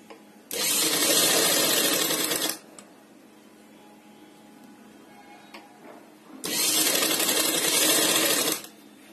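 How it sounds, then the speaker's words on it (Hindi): A sewing machine stitches suit lining in two loud, close, rapid bursts of whirring, chattering stitching of about two seconds each, with a quiet pause between them. "ये करने के बाद हम एक सिलाई यहां भी लगाएंगे ताकि ये अच्छे से फिक्स"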